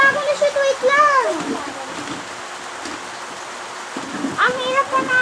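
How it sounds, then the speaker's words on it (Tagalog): Steady rain falls as a constant hiss outdoors, under children's voices talking and calling out in Filipino during a marble game. "umuulan na"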